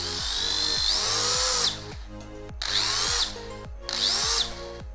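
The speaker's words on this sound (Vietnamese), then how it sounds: "máy bắn vít chuyên dụng Hitachi 924" A Hitachi 924 electric screwdriver runs in three loud, close bursts, each a steady high motor whine that drops briefly between pulls of the trigger.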